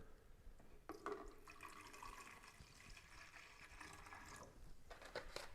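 Liquid D-76 film developer being poured, a faint, continuous splashing trickle lasting several seconds, with a few small clinks along the way.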